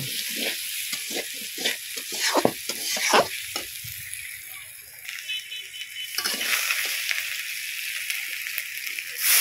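Potatoes being stirred and fried in a pan for a fish curry, with steady sizzling and repeated scraping, knocking stir strokes up close. A brief gurgle or slosh is heard midway.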